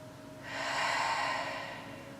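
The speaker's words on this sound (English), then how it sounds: "Inhaling through the nose and then exhale through the mouth." Slow, soft exhale during a gentle chair yoga practice, a single long breath swelling and fading, close and quiet with no talking.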